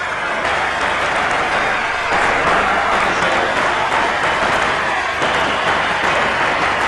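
A cricket crowd applauds the 100 partnership for Kepler Wessels in an Australia versus South Africa match, loud and sustained for about seven seconds, the steady wash of clapping swelling slightly midway.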